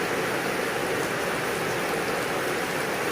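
Heavy rain pours down steadily, a dense, even hiss of water falling without pause, loud and close throughout with no voices.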